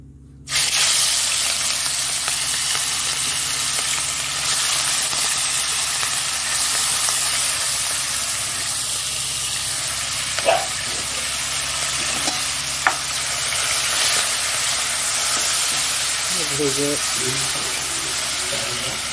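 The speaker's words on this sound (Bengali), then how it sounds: "আগে চিংড়ি মাছটা ভেজে নিই।" Shelled prawns rubbed with salt and turmeric sizzle steadily in hot oil in a home kitchen, a continuous frying hiss with occasional stirring clinks and brief spits, close and fairly loud throughout.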